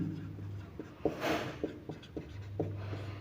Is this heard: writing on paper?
yes